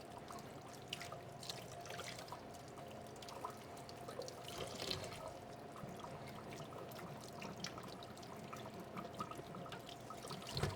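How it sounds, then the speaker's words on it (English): Vegetables being rinsed under a running kitchen tap, a steady, fairly faint stream of water with small splashes and trickles throughout, no talking. "we want to make sure that we have all of our vegetables clean and rinsed to make sure you're getting off any dirt particles or any pesticides"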